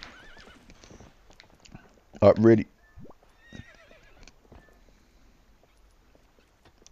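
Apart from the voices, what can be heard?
horse neighing and hooves in video game Zelda Twilight Princess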